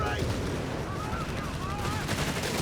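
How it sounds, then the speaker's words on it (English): Artillery and gunfire in Company of Heroes 3, a busy multiplayer battle between Wehrmacht and British forces, with dense rumbling impacts and rapid shots layered over the soundscape and faint whistling tones overhead. "DexN's artillery responds swiftly"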